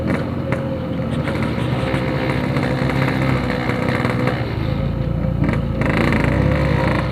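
A Yamaha RX King motorcycle runs through an aftermarket exhaust, a steady, close droning idle with a buzzy two-stroke tone that holds unbroken throughout.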